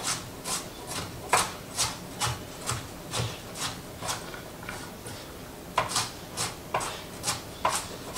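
Carrots are fed through a food mill, giving a rhythmic series of scraping, rasping strokes, about two per second with a brief pause midway, close and clear.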